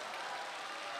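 Audience at a Chinese crosstalk comedy show applauds, a short, even burst of clapping from a crowd with no pauses.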